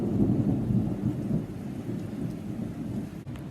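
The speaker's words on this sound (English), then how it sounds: "At least the rain has slowed down," A thunderstorm with rain: a steady, loud wash of rainfall mixed with deep, rolling thunder rumble that carries through the whole stretch, with no voices.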